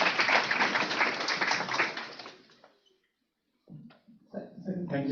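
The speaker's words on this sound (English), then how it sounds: "Please give round of applause." Audience applause at an AI and careers event greeting a tech founder, a dense, steady wash of clapping for about two and a half seconds that fades out, followed by a pause and then someone speaking.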